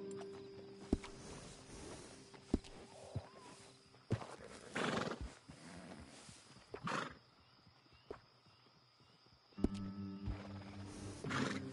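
A horse in Red Dead Redemption 2 whinnies loudly several times between hoof clip-clops, with a layered, slightly synthetic game backdrop and occasional sharp thuds.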